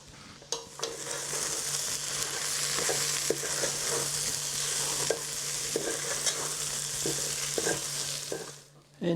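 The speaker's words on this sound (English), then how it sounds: "Just mixing all those together, and we're going to cook it for about 5 minutes with those spices." Peanut chicken curry with spices stirred and frying in a pan, a steady close sizzle with scraping utensil strokes throughout, no talking.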